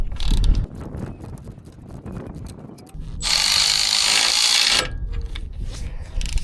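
A wrench ratchets against a rusty bolt with quick mechanical clicking, joined midway by a loud, harsh burst of grinding noise before the clicking returns.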